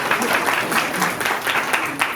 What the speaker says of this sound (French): Je vous propose d'applaudir bien fort les honorables.